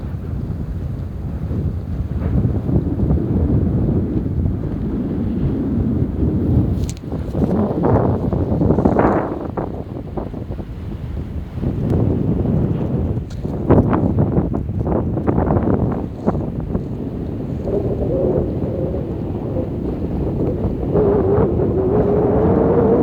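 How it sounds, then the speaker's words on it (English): Strong wind buffets the microphone on the summit of Litlihrutur volcano, roaring in broad gusts that rise and fall for over twenty seconds, close and loud with no talking. "now we got wind, but not always we have wind."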